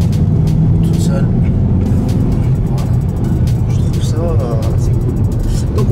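A car in automatic mode driving along and changing gears by itself, steady loud engine and road noise throughout with people talking over it.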